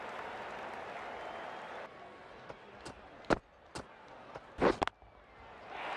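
Crowd applause and cheering from a stadium in Cricket 19 during a South Africa vs England T20 match, a steady broad roar that eases off partway through, broken by a few sharp bursts and peaks.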